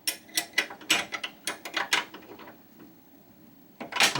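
Clicking ratchet wrench tightening a belt adjustment bolt on a Sole treadmill, a quick run of sharp mechanical clicks in bursts with a pause, then one more burst, close and moderately loud.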